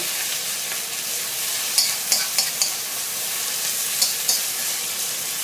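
Fried rice with fermented fish, fresh chilies, shallots and sweet peppers stir-fried in a pan, a steady close sizzle broken by several light scrapes of the spatula.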